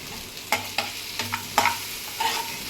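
Tomatoes with chili powder and salt being stirred in a pan for tomato bath upma: a low sizzle under several distinct scrapes and clinks of a spoon against the pan.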